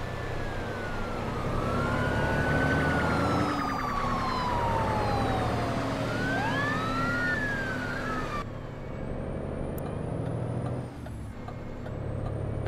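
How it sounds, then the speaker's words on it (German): An ambulance siren wails in repeated rising and falling sweeps in the American Truck Simulator game, heard over the constant rumble of a Mack Anthem truck engine and fading partway through. "Ah, da fährt ein Krankenwagen."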